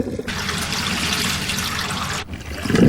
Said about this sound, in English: Wherever you looked, water was draining away.